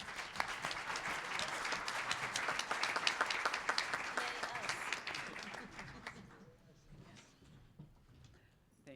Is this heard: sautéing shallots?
no